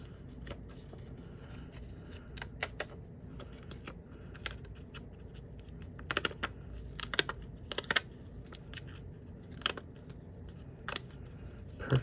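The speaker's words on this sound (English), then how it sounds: "Perforated paper ASMR." Perforated paper being popped out of a journal along its perforations, heard as scattered crisp ticking and tearing snaps, sparse at first and clustering into quick bursts, close and fairly quiet with no talking.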